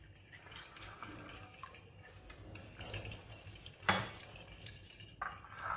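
Spoon stirring semolina and milk together in a bowl, giving soft scraping and light clinks that come and go, with one sharper clatter near the middle, fairly quiet throughout.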